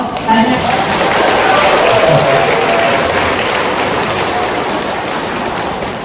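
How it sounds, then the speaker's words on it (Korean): A congregation at a Catholic retreat in Tanbang-dong church, Daejeon, gives a loud, dense, steady wash of applause to welcome the priest, sustained for several seconds and easing slightly toward the end. "그러면 큰 박수로 다시 한번 맞이하겠습니다"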